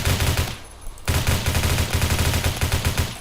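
Rapid gunfire in the first-person shooter game Phantom Forces, loud repeated shots in steady bursts filling nearly the whole stretch with only a brief pause.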